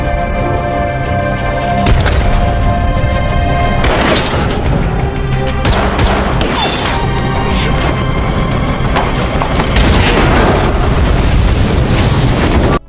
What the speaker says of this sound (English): he detonates the bomb he had prepared to kill Colonel Moon and his henchmen